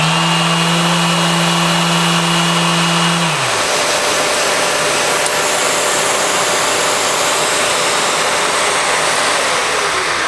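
A power sander runs while sanding epoxy: a loud, steady whine that drops in pitch a few seconds in, then settles into a constant broadband hiss until the end, with no speech.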